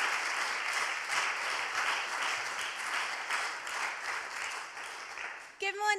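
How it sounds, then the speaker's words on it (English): A church congregation at a Salvation Army morning worship service applauds warmly to welcome a youth worship group, a dense, steady clapping that fills the room before a voice begins speaking at the end. "clap your hands at home as well if you like"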